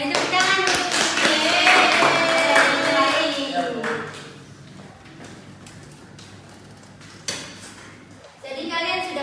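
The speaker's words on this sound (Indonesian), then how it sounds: "Ya, beri tepuk tangan." Schoolchildren in a first-grade primary class clap their hands in quick, scattered bursts amid voices. The clapping thins out midway, and one more short burst comes near the end.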